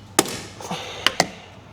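Plastic side skirt trim clips pop loose from a BMW M240i: several hard, sharp cracks, two close together near the end, loud and close with no speech.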